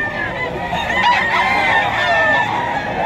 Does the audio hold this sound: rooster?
yes